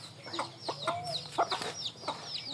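Native chickens being fed overripe watermelon cluck softly and repeatedly in short, uneven bursts, close by in a quiet outdoor setting.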